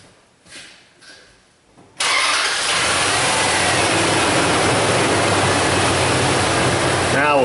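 A Dodge Dakota engine cranks and catches after a couple of seconds of quiet handling noise, then settles into a steady, loud, close idle for the rest of the time.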